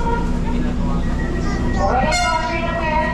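A light rail train rumbles loudly and steadily close by, and a rising tonal whine or horn-like tone swells near the end.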